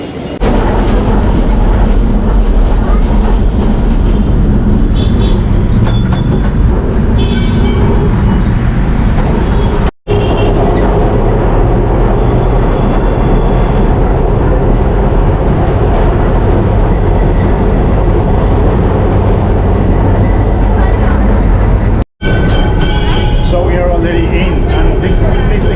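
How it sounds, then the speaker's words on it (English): Loud, continuous rumble and rattle of an old heritage tram rolling along tracks in Calcutta, India, with clanking and screeching wheels filling the whole stretch, heard from on board. "Tram ride."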